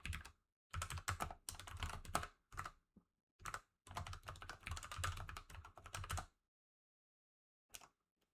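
Bursts of close, loud typing on a computer keyboard during a game-programming session, clattering keystrokes in runs of a second or more separated by short pauses, with a final brief tap near the end.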